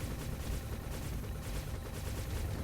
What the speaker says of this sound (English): You can see the rockets kind of exploding everywhere.